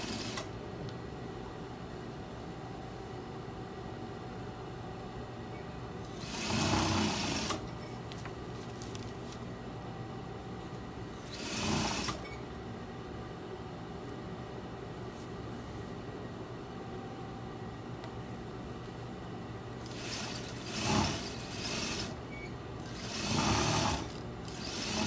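Domestic sewing machine stitching the side seam of a sleeve and bodice without pins, with several short bursts of running stitches separated by quiet pauses.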